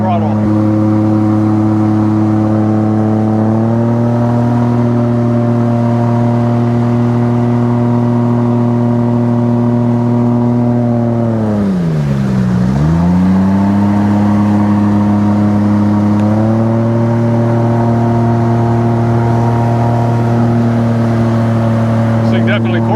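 A Solar 470 Super Jet personal watercraft engine held at half throttle, a loud, steady droning whine that dips sharply midway before settling back to a constant pitch.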